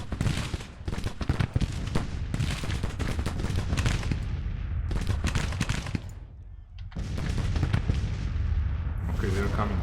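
Civil War artillery bombardment in Grand Tactician, with loud, repeated cannon booms and crackling volleys rolling almost continuously, broken by a brief lull before the firing resumes.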